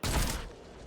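A single gunfire burst in XCOM: Chimera Squad, a loud short blast that fades into a brief tail.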